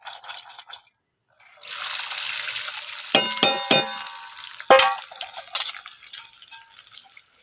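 Kutma vegetable dropped into hot oil in a pan bursts into a loud, close, steady sizzle, with a few sharp crackling pops over the continuous frying hiss, following a brief quieter moment.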